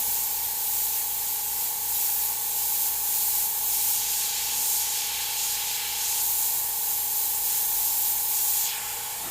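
An airbrush sprays paint against a mask to build a drop shadow on a tiki painting, giving a continuous close hiss that holds steady for several seconds, with a faint rhythmic compressor thump underneath.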